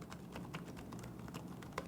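Fingers type quickly on a Samsung Smart Keyboard, a wireless tablet keyboard with a reinforcement plate, producing a steady stream of light, fairly quiet key clicks at close range.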